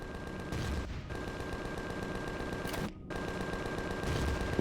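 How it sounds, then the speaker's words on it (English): Automatic sentry guns fire in the space-survival game Empyrion Galactic Survival (Reforged Eden), a steady stream of rapid gunfire bursts filling the clip with two brief gaps. "I need to come at it from angle of the dangle where the sentry guns can't shoot me."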